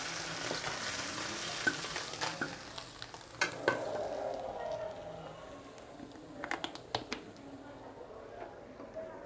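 Amudi fish frying in mustard oil on lowered heat, a soft steady sizzle with scattered pops and a few utensil clicks, fairly quiet and close.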